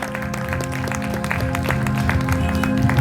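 Congregation clapping hands during a church service, a dense rhythmic patter of many hands that swells slightly louder toward the end, with a sustained organ-like tone and musical hum underneath.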